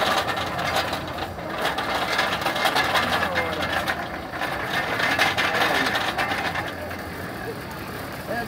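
A sugarcane juice press grinding fresh cane at an open-air street market in Nova Floresta, Paraíba, giving a continuous motor drone and mechanical rattle close by, with market chatter and voices talking over it.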